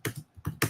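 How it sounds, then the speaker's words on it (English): Keys on a computer keyboard clatter in short bursts of quick taps, separated by brief pauses, close by and fairly quiet. "I'm typing and talking"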